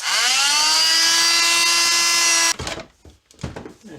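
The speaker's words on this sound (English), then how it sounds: "undercut saw. Cut right through this." An undercut saw grinds through a broken pot metal mirror mount from a Yamaha Riva scooter, a loud steady high-pitched whine for a couple of seconds that abruptly stops, followed by faint clatter and handling noise.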